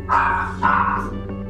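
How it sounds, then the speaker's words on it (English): Dogs at a boarding kennel bark at bedtime: two loud close barks about half a second apart, then a fainter yip, with no talking. "We know what they're barking about."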